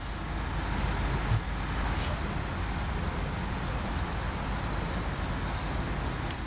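An old truck drives in the video game Snowrunner, its engine giving off a steady, continuous low rumble with a faint clatter on top, with no voices.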